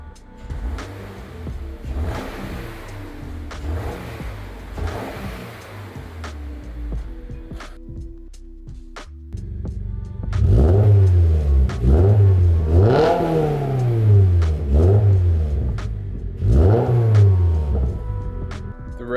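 A 2023 Subaru BRZ engine revs repeatedly through a throaty aftermarket catback exhaust, idling low and then swelling into several loud, deep rev bursts in a steady rhythm.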